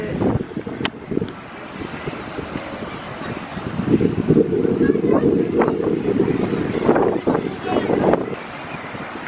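Wind gusts at a beach on Tybee Island buffet the microphone in a steady low rumble, with a person talking over it throughout.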